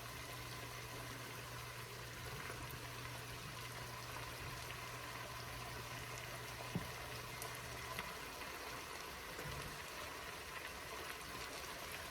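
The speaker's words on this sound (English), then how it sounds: "kind of wash my hands a little bit" Tap water runs steadily from a kitchen faucet during hand washing while cooking, a constant soft splashing stream with a brief clunk partway through.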